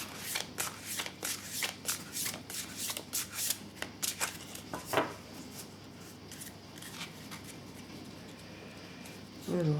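An oracle card deck being handled and shuffled by hand, with a quick run of crisp, papery card flicks and riffles up front that thin out into scattered slides and taps.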